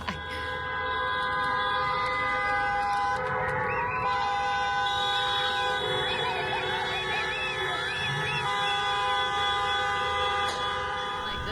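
Sustained loud car horn blasts blare continuously as an alert during immigration raids, layered tones holding steady with a wavering pitch, like vehicle horns honking nonstop nearby.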